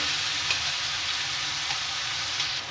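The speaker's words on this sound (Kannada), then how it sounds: "ಈಗ ಇದನ್ನು ಹಸಿ ಸ್ಮೆಲ್ ಹೋಗೋ ತನಕ ಫ್ರೈ ಮಾಡ್ಕೋಬೇಕು" Ground masala paste frying with vegetables in a hot pan, a dense, loud continuous sizzle close up with a few faint spoon scrapes, no talking.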